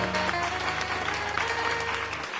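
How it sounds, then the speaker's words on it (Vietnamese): Steady audience applause at a Vietnamese cải lương theatre commemoration event in Sydney, dense continuous clapping from a seated crowd over a low background hum. "Xin mời quý vị dành một tràng pháo tay ạ."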